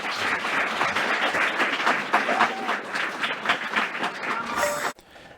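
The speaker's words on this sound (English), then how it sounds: "They gave him the little obligatory, you know, round of applause, little." A studio audience gives a brief, lukewarm round of applause, a steady patter of clapping with a few louder claps standing out, ending abruptly after about five seconds.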